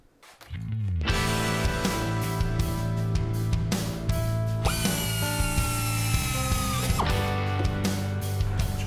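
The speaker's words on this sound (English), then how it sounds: "Just hold it together with clecos while it's being drilled." A power drill runs loud and close, boring through parts held together with clecos. Its steady whine starts after a brief pause and shifts pitch as the load changes partway through.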